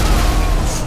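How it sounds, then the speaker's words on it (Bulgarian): A loud, dense, booming burst from an explosion in GTA fills the short moment, heavy in low rumble, with no clear talking over it. "О, взривих го!"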